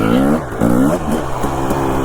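An off-road motorcycle revs hard on a bumpy backcountry trail in Idaho, its engine note rising and dipping through throttle changes, loud and close with no talk.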